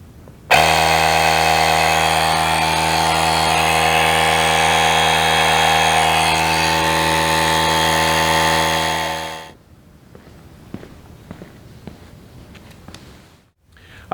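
An Auxito jump starter's built-in air compressor pumps up a donut spare tire from 4 to 33 PSI, a loud steady motor drone with a buzzing tonal whine, running close for about nine seconds before cutting off to quiet handling noises.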